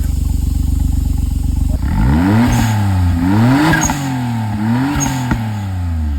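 A Suzuki Wagon R fitted with an Apexi exhaust idles with a steady low burble, then revs up and down in several rising and falling sweeps, with a small pop between blips, loud and close.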